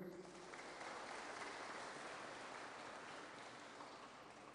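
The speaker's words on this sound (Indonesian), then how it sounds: "Beri aplaus dulu Pak Nurjan." An audience at an entrepreneurship seminar at a polytechnic applauds, giving dense, steady clapping that fills the room without pause, fairly faint in level.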